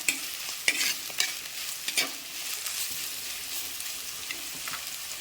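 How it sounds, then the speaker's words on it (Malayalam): Sliced onions fry with salt in a pan for a coconut milk fish curry, giving a steady sizzle. Sharp scraping and clacking strokes of a stirring spoon cut through it, with no talking. "സവാള മൂത്തങ്ങ് ക്രിസ്പി ആവണ്ട കേട്ടോ, മൂത്ത് വേവണം."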